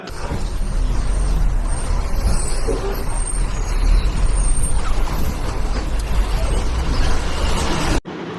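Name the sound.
bus entering Kanjirappally bus stand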